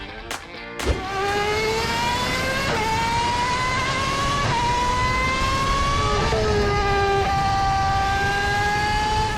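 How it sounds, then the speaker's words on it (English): A car driving down the road, its engine climbing in pitch and dropping back several times as it shifts through gears, loud and close, with no voices. "A car is simply gliding down the road and the movement calms you down."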